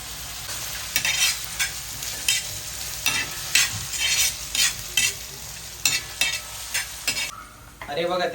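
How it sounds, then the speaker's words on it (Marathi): Two medium onions frying in hot oil in a pan, a continuous sizzle broken by rhythmic bursts of spatula scraping and stirring, close and fairly loud. "आता तेल गरम झालंय आणि मीडियम साईजचे दोन कांदे घेतलेले आहेत"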